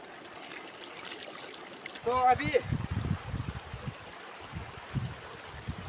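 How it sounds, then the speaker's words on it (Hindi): Rice is washed in water while someone talks throughout. Soft, irregular sloshing and splashing runs under his voice, close by and fairly quiet. "चावल है। और हम इसको अच्छा से धोलेगा।"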